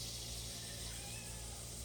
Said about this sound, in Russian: Орет, мяу-мяу